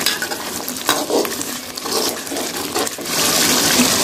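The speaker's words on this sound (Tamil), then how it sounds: "இப்போது லாஸ்ட்டாக நல்லெண்ணெய் ஊற்றி நல்லெண்ணெய் ஊற்றி நல்லா கிளறி விடணும்" Tomato pickle is stirred with sesame oil in a pan: close scraping and clinking spoon strokes over a bubbling sizzle that grows louder and steadier toward the end, with no talk.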